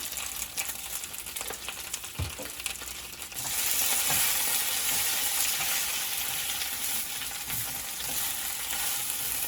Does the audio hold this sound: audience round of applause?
no